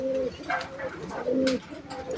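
A pigeon coos up close in a few throaty, rolling calls, clear and loud with nothing masking them.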